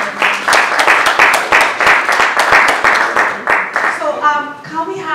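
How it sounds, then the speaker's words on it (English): A forum audience applauds its panelists with loud, close, sustained clapping, the claps crisp and dense before tapering off near the end as a voice begins to speak. "A round of applause to all of them."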